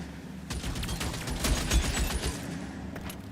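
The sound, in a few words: gunfire from a gun in L.A. Noire video game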